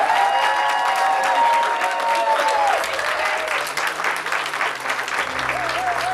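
An audience at a Rotary club installation ceremony gives a sustained round of hand clapping for the team, loud and even throughout, with faint tonal voices over it.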